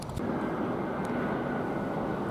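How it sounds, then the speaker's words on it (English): An EasyJet plane arriving at Luton Airport, heard from the nearby railway station as a steady, broad engine roar that holds at an even level throughout, moderately distant, with no voices. "Now we've got another plane coming to Luton, which is a EasyJet."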